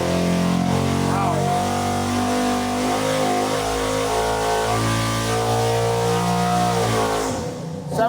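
Small-block Chevy V8 with more timing on a dyno, sweeping up to 7000 RPM: a loud, steady roar rising in pitch for about seven seconds, then cutting off at the end.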